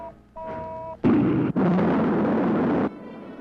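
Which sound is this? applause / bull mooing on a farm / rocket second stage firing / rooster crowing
rocket second stage firing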